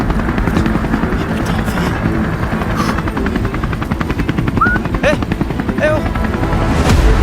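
A helicopter arriving on an island, its rotor chop a loud continuous thrum throughout, with people shouting and talking over it.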